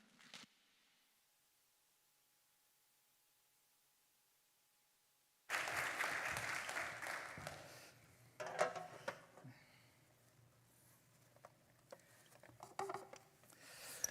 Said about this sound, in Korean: 올라오실 때 뜨거운 박수로 환영하겠습니다